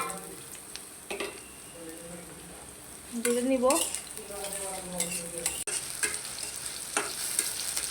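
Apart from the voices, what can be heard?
onion, chili and garlic frying in hot oil in a wok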